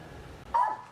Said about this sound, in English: I got my 4 dogs in my car right now